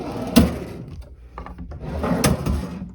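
Wooden drawers of a hotel room side table slide open and shut, giving two sharp knocks with rubbing wooden scrapes between them, close and fairly loud, with no talking.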